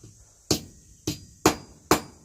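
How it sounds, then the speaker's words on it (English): Four sharp, evenly spaced hammer taps ring out on a hot forged hook being straightened, each strike bright and metallic with a short ringing decay, close by and alone without talk. "grab it and just give it a little bit of a tap, straighten her up"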